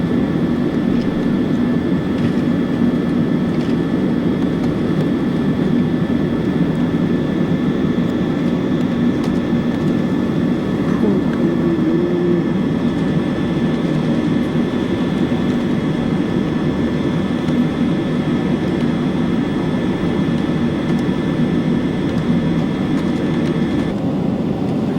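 Steady drone of an airliner cabin in flight, a continuous loud, even rumble with a faint constant whine, unchanging throughout.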